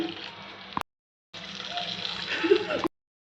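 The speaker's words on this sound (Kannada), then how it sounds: "ಇವಾಗ 3 ಪ್ಯಾಕೆಟಿಗೆ 3 ಲೋಟ ನೀರು ಹಾಕ್ತೀವಿ." Water splashes and hisses into a hot pan for Maggi noodles in two bursts, with a short silent gap between them and no talking.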